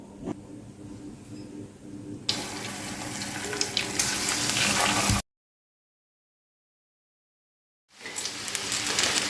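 Egg-dipped chicken tikka kebabs fry in oil on a griddle as a loud rushing sizzle that swells midway, cuts to full silence, then returns.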